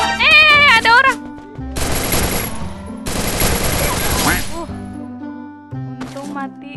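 Bursts of automatic gunfire rattle loudly in the Free Fire battle royale game in two long sustained volleys, mixed with game music and brief interface tones.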